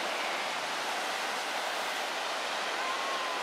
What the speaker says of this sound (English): beautiful beach, calm waves.